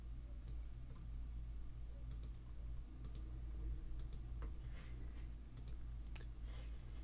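Faint, steady typing on a computer keyboard in a quiet, close ASMR setting, with soft scattered key clicks and no talking, while a web page is being coded.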